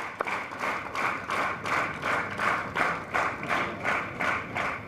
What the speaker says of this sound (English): I think the applause should continue to happen.